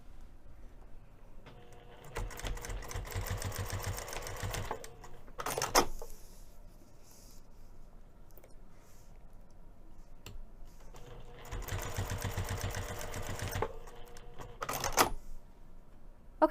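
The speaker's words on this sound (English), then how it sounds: "I'm going to take this over to the sewing machine and stitch down the raw edges" A sewing machine stitches down the raw edges of a bag strap tab at an eighth-inch seam allowance, running in two steady buzzing bursts of a few seconds each, separated by quieter handling pauses.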